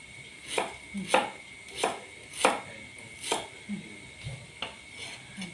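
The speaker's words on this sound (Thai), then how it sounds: "เราหั่นกระติก ตะไคร้ก่อนนะคะ หั่นตามไปเลยนะคะ" A knife chops lemongrass on a board in a steady rhythm, about ten crisp thuds spaced evenly, close up with no talking.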